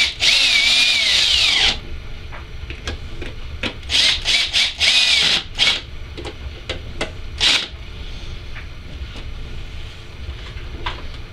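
A power drill drives screws to mount DVD drives in a Pentium 3 computer case, with a long whine first and then a series of short loud bursts that stop and start, close by, with no talking.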